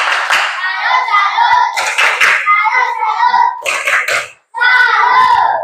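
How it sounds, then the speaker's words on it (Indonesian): A classroom of children performs a rhythmic clapping cheer for a classmate, with bursts of patterned hand claps mixed with young voices chanting, a brief pause, then a final burst. "Tepuk salut buat Kalista dulu."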